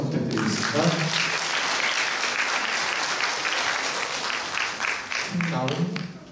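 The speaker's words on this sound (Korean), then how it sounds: "박수 한번 부탁드리겠습니다" An audience at a student presentation contest on disability rights claps for a school team coming forward, sustained crowd applause that fades near the end, with a speaking voice at the start and finish.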